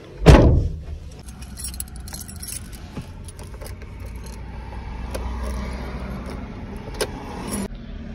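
A loud, close jangle of car keys opens the sequence, followed by a car being started at night in Riyadh. A low engine rumble settles in, with scattered small clicks.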